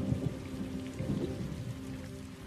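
Steady rain pours down in a dense, even hiss with faint low rumbles underneath, continuous and close with no voices.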